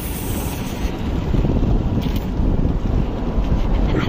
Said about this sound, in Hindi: मस्त मौसम है, ठंडी, उसके साथ साथ हवा चल रही है